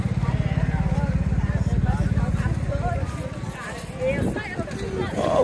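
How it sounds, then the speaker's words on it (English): On a Lisbon street, a tuk-tuk's small engine putters in a loud, rapid pulsing rhythm close by, then fades as it passes while people chat over the street noise. "Tuk-tuks. It's a tuk-tuk."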